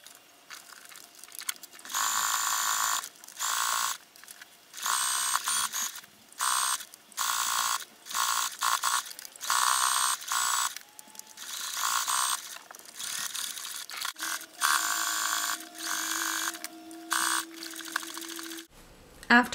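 A sewing machine top-stitches elastic onto a swimsuit in repeated bursts of fast mechanical whirring, each run stopping and starting with short pauses between, close and fairly loud.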